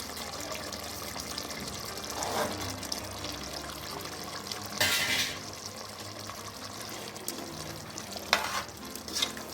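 Chickpeas are stirred into a frying pulao masala in a pan, with a soft sizzle running under repeated scraping stirs and a few louder clatters of the spoon against the pan.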